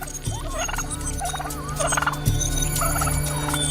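A brush turkey gives a few repeated, rising gobbling calls over a steady low drone and outdoor hum, with other faint bird notes in the background.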